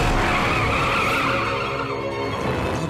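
A cartoon car tears away in Hot Wheels Battle Force 5, its tires skidding and squealing over a loud engine roar that fills the whole stretch, with no voices.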